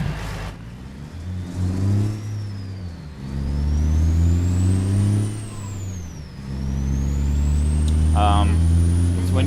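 Simulated truck engine in American Truck Simulator, driving a route from El Paso to Waco, Texas, revving and pulling steadily with rising and falling pitch as it shifts, loud and continuous, with someone talking over it.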